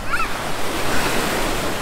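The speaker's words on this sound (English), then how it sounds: "That water's gonna be loud because we are literally in it." Ocean surf washes continuously and loudly at Waikiki Beach, recorded from within the water, a close, churning rush of waves with some wind buffeting.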